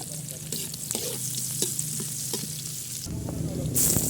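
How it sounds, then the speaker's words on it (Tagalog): Garlic sautéing in a hot pan with oil, a steady close sizzle with occasional stirring scrapes and a louder burst near the end as more goes in. "paglabas ng aroma, susunod natin dyan ang bawang."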